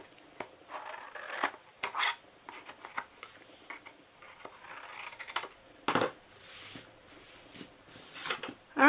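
Scissors snip through pieces of a homemade cardboard cookie box, giving a few quiet, close, irregular cutting and rustling sounds with gaps of near silence between them.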